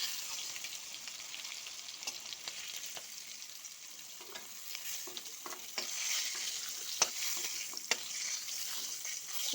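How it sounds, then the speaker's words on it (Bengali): Prawns frying in hot oil in a wok give a steady, bright sizzle with scattered crackles and pops, and occasional spatula scrapes. The sound stays close and even throughout, with no voices. "চিংড়ি মাছগুলো কিন্তু এবার ভাজা হয়ে গেছে"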